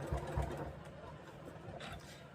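A sewing machine stitches a quilt, a soft, faint mechanical whir with a few quick pulses at the start, heard close up in a quiet room.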